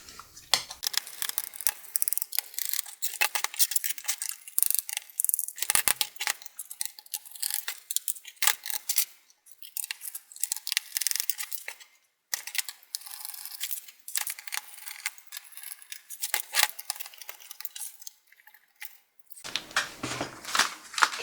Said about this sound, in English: So I'll just start by taking off all the screws.